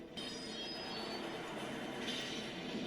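A train in an animated show rumbles past steadily, with a thin metallic wheel squeal riding over the low roar throughout.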